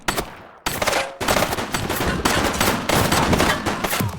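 Gunfire during a police raid in The Precinct video game, dense rapid bursts of automatic shots overlapping with loud impacts, continuous after a brief opening pause.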